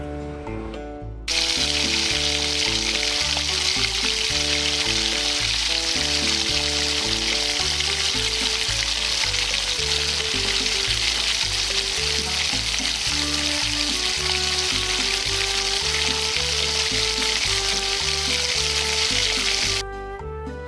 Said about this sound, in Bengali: তৈরি হচ্ছে গরম গরম মুচমুচে চিংড়ি ভাজা।